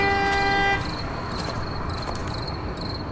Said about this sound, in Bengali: একটা ফুট খোলা মোটর গাড়ি হর্ন বাজিয়ে তীর বেগে ছুটে আসছে ওদের দিকে।